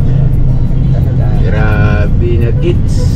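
Road traffic rumbles in a jam in the Philippines, a loud low engine drone heard from inside a vehicle, with people talking over it throughout.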